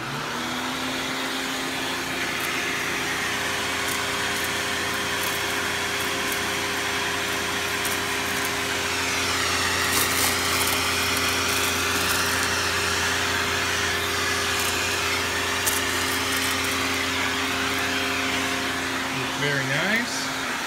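A Panasonic Jet Flo vacuum cleaner with its hose attached runs continuously at close range, a loud steady motor whine with a rising and falling pitch partway through, and it winds down near the end.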